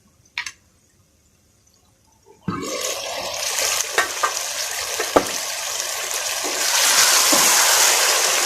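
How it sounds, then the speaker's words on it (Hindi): Stuffed tinda (ivy gourd) roasting in a pan: a few faint clicks and a clatter, then a steady, close sizzle with scattered pops that swells louder toward the end. "इनको गलने तक हमने इनको भूनते रहना है"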